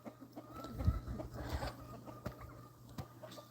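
Soft clucking of chickens and guinea fowl nearby, scattered low calls and a few sharper squawks over a quiet outdoor background.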